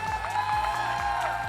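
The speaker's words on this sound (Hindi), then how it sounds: "तालियां इतनी कम नहीं होनी चाहिए भाई" Applause and light cheering at an awards ceremony sit under a tonal musical background, a modest crowd clapping steadily for a brief stretch.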